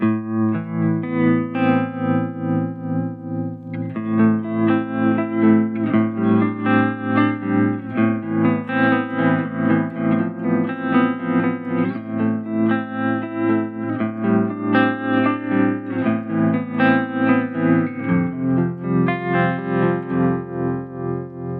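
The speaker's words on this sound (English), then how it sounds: "that tremolo effect that we get in there is super, super smooth, really, really nice." A sustained electric guitar chord pulses in a smooth, steady analog tremolo throb from a modulation pedal, the volume rising and falling rhythmically throughout.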